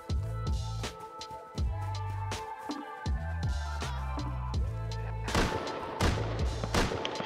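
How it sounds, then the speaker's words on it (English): Gunfire in the video game Rust, a series of sharp shots cracking out at irregular intervals over a dense, droning background. "He just shot me through."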